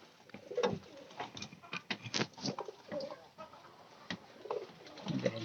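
Domestic pigeons coo in repeated soft, throaty bursts, with overlapping calls and light fluttering and shuffling from the loft, close by and with no speech.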